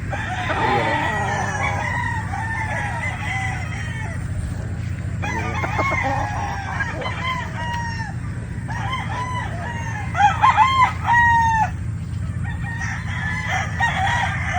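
Six-month-old two-way cross gamefowl roosters, 5K sweater crossed with Gilmore, crow repeatedly on a game farm, several loud near calls overlapping with clucks over a steady outdoor background.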